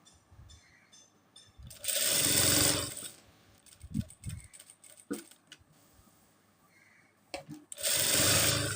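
An electric sewing machine stitching a small boy's kurta, running in several loud whirring bursts of a second or so, separated by quieter handling clicks and rustles of fabric.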